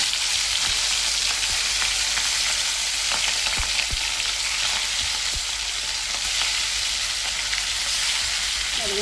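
Fish pieces fry in a pan with a steady, loud sizzle that crackles continuously throughout, close up, with occasional sharp pops and no talking.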